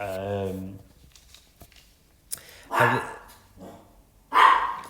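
Several pet dogs barking indoors, loud sharp bursts in a few separate clusters with quiet gaps between, and a person speaking briefly at the start.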